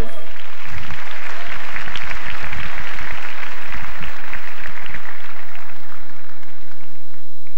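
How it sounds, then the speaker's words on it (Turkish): A crowd applauds a band at the 1998 Kral TV music awards ceremony, with loud, dense, sustained clapping filling the hall throughout. "Alkışlarımızla uğurluyoruz."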